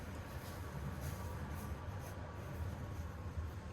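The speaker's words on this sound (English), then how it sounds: "As the tram goes by in the background" A tram rolls past on a Tallinn street, a faint, steady rumbling drone in the background with a light rattling texture and no clear voices.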